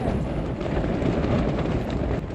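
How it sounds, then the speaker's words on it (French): Strong storm wind buffeting the microphone outdoors, a loud continuous low roar and rumble with no pauses, no one speaking. "Il y a un peu du vent là, non?"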